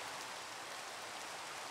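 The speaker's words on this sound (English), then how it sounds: "I hate rain!" Steady rain in the video game Minecraft, a soft even hiss of falling drops with no break and no voices, faint and continuous.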